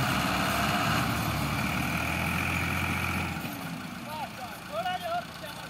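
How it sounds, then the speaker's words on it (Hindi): Tractor engine idling with a steady low rumble for about three seconds, then dropping away as voices and faint chirps take over toward the end. "पठाना का ट्रैक्टर है,"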